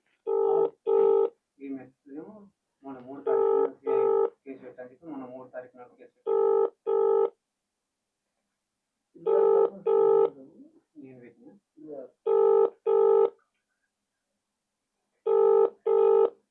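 A phone rings repeatedly in regular double bursts with pauses between, going unanswered, while a person speaks in the gaps.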